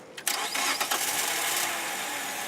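An old car on its last legs cranks and catches, then settles into a rough, steady running noise, close and loud with no one talking.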